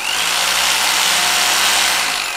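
Power drill in a GTA roleplay game, a loud continuous high-pitched whir held steady for the whole stretch without pauses or talk.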